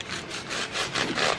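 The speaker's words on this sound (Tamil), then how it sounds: "ஓகே, ஸோ இதை கட் பண்ணி காமிச்சிட்றேன்." A knife saws back and forth through a bread vegetable sandwich in steady rhythmic strokes, close and fairly loud, with no talk.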